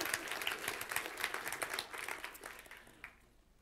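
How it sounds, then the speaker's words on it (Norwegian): A party congress audience claps during a speech, a fairly faint, distant spread of applause that dies away toward the end. "Ja, det er lov å klappe."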